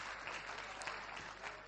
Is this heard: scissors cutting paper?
no